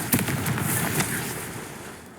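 A Confringo blasting spell in Hogwarts Legacy bursts with a few sharp crackling blasts close up, followed by a fading rumbling hiss.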